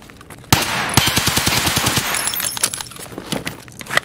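Rapid automatic bursts from an HK UMP submachine gun in Escape from Tarkov, starting loud and sustained after a short pause, a fast even string of close shots trailing into scattered shots and clatter.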